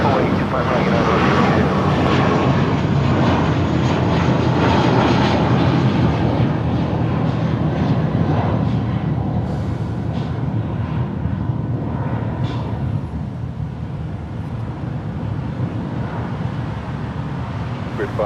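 An airliner taking off from runway 25 right at Los Angeles International Airport gives a loud, steady jet roar that fades slightly toward the end, with air traffic control radio chatter underneath.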